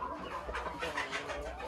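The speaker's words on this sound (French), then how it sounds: "dans l'autre parquet ici, j'ai bien évidemment des coqs" Brahma roosters cluck in a farm pen, a close, busy run of overlapping clucks and short calls that continues steadily for under two seconds.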